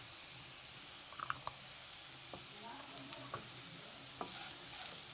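Potatoes with curry leaves and sprinkled spice powder fry in a home pan while a spoon stirs them: a steady close sizzling hiss runs throughout, broken by scattered sharp scrapes and clicks of the spoon against the pan, with no talking.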